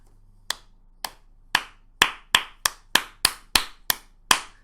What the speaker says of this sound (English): listen to the applause here